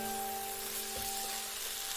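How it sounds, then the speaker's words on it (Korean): Cooking wine, chili powder and minced garlic stir-fry in a pan, giving a steady, soft sizzle with a faint hum in the background. "맛술, 고춧가루를 넣고 볶고 다진 마늘을 넣고 1분 더 볶아줍니다."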